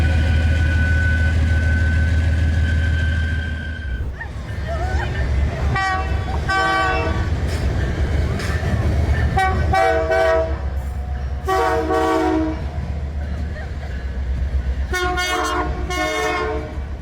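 A holiday train passes close by, sparks flying beneath its wheels, with a steady loud rumble of cars rolling along the rails and repeated horn blasts sounding in bursts over the clatter.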